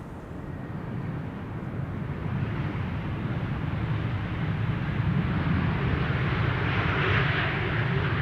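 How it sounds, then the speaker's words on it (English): Aegean Airlines Airbus A321neo landing at Amsterdam Schiphol, a broad engine roar that builds gradually and holds steady at a distance, with no voices. "Aegean flight 3624 arriving from Athens, A321neo"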